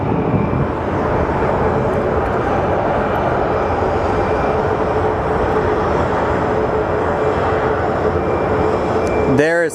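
An airliner takes off at Phoenix Sky Harbor airport with a loud, sustained jet engine roar that stays steady for the whole stretch, and brief commentary near the end.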